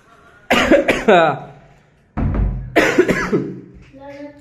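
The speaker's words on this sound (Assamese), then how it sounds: "অলপ কাহ হৈ আছে মোৰ" A person coughs indoors in a new apartment in Guwahati, with two loud, close bouts of harsh coughs separated by a short pause. Each bout breaks into a voiced tail.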